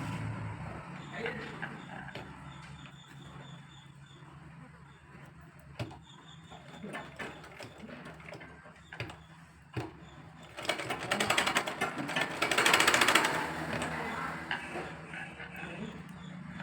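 Sewing machine stitching a plain petticoat, a quiet mechanical whir with clicking ticks, swelling into a louder, busier run of stitching near the end, no voices.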